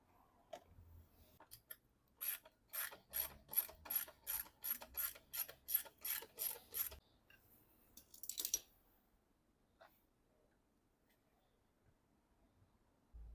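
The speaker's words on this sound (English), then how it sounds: "Then I had to remove this screw." A ratchet wrench clicks rapidly in short repeated bursts while backing out a screw on a 2011 Ford Mondeo tail lamp, close and crisp, followed by a brief scrape and quiet pauses.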